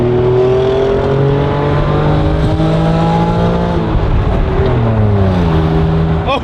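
A restored widebody Acura NSX engine runs and revs, a loud steady drone that climbs in pitch through the gears, heard up close inside the car.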